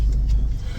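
Steady low rumble of a car engine heard from inside the cabin while driving, continuous and fairly loud with no talk.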